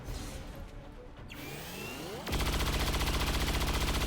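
Chain shot gunfire in the video game XCOM 2: a rising mechanical whine and sweep give way to a loud, rapid burst of repeated cannon shots that continues to the end.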